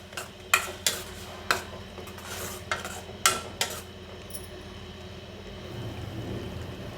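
Several sharp metal spoon scrapes and clinks against a pan while stirring a tomato and onion mixture for raw banana curry, irregularly spaced, over a low background hum, fading to a quieter simmer.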